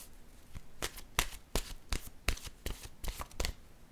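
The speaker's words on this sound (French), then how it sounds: "Je vais piger une carte maintenant de mon oracle de l'âme intuitive." Cards from an oracle deck being shuffled and drawn by hand, a quick series of crisp, close riffling flicks and soft slaps in an uneven rhythm, with no talking.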